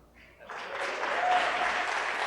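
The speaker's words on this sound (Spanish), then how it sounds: "Un aplauso a la banda." Church congregation applauds the band at a Sunday morning service, the clapping swelling in after a brief quiet start and holding as a steady, moderately near wash of many hands.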